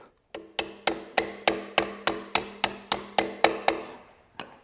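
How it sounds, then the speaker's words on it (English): A small screwdriver is tapped with a hammer to drive the pin out of a British car's shift lever: about a dozen sharp, evenly spaced metallic knocks, close and clear, with a brief pause before a final tap. "And then just tap."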